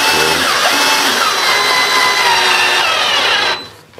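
Power drill driving screws into wood while a wardrobe is assembled: a loud, steady whine with a constant pitch runs for about three and a half seconds, then cuts off abruptly into near silence with no talk.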